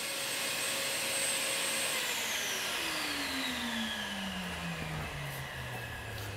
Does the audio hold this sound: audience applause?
no